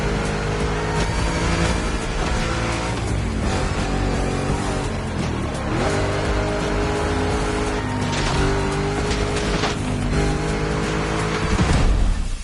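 Racing car engine in The Crew Motorsport, a Ford Mustang GT built as a giant monster-style racer, roaring loud and continuous with rising and falling gear sweeps, tire squeals and skids over about twelve seconds with no talking.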